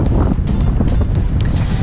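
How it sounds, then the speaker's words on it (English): Steady wind buffeting a GoPro Hero 9 microphone on a windy day in open fields in Belgium, a continuous loud rumbling roar with gusty fluctuations. "This is a great chance to test out the wind protection because it's kind of a windy day here in Belgium."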